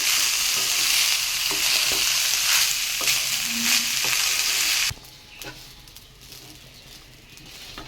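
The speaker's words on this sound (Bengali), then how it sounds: "চালটা দিয়ে দিয়েছি এখন একটু ভেজে নেব" Rice sizzling and being stirred in a pan for Bengali basanti pulao, a loud dense frying hiss for about five seconds that suddenly drops to a faint low crackle.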